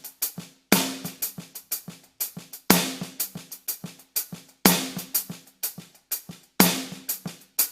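A drum kit plays a halftime shuffle groove with rim shots and ghosted third-triplet notes on the snare, a loud, close, steady triplet pattern with accented backbeats recurring about every two seconds.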